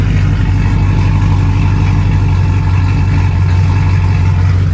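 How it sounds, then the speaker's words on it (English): A 1999-2006 Chevrolet Silverado or GMC Sierra pickup engine idles steadily with a deep, even rumble, loud and close, running alone without any voices. "Idle sounds good."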